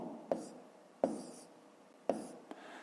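Pen or pencil writing figures by hand on paper for a fifth-grade maths exercise, three distinct taps and short scratching strokes spaced about a second apart, close and quiet, with no voice.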